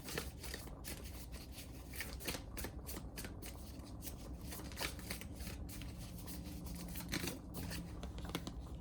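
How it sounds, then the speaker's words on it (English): Tarot cards being shuffled repeatedly, a steady papery riffling and flicking that continues throughout, close up with no talking. "So let's shuffle the tarot"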